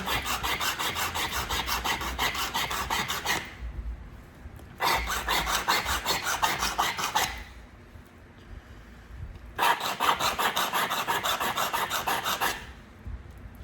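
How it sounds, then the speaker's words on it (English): Three bursts of steady scraping and rasping as a long flint river chert blade edge is abraded and sharpened, each stroke sequence lasting a few seconds, separated by short quiet gaps, close and fairly loud with no talking. "Do another abrading or sharpening session."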